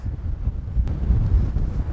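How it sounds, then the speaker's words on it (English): Strong wind on an open golf course buffets the microphone with a steady low rumble and gusty roar throughout, loud and close, with no voices. "That's how windy it is."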